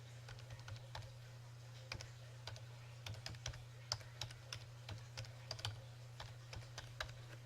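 Typing on a computer keyboard as a URL is entered: a fast irregular run of light key clicks over a steady low electrical hum, close and clear with no talking.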